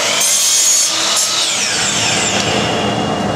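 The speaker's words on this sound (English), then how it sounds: "So what I do is I first cut the first miter," A saw cutting a miter through a wood strip for a handmade pen case box, a steady loud rasping cut that runs the whole moment alone without talk.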